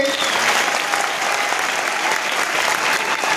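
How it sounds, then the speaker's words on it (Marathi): An audience at a student career guidance gathering in Nanded claps loudly and continuously, a dense unbroken wash of applause filling the space. "म्हणून एकदा जोरदार टाळ्या वाजवायच्या विचार मंचासाठी."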